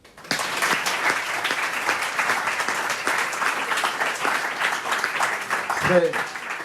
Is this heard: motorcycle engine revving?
no